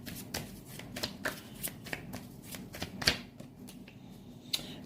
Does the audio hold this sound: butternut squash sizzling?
no